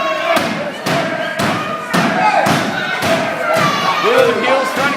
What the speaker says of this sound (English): Big coconut headbutt.